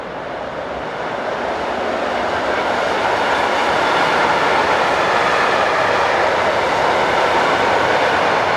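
Electric locomotive 185.143 hauling a tank train past at close range, a loud, steady rolling rumble and wheel roar that builds slightly and holds throughout, with no voices.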